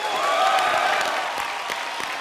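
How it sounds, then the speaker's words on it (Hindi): Studio audience applauding on an Indian comedy show, a steady broadband clatter of many hands sustained throughout, fairly close and full, tapering slightly toward the end. "जोरदार तालियां हो जाए भारती और करण के लिए।"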